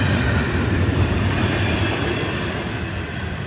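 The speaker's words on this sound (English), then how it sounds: "Here comes the end of the train." The tail end of a train rolls past a railroad crossing, a steady loud rumbling roar of wheels on rails with faint clatter, close by and slowly easing.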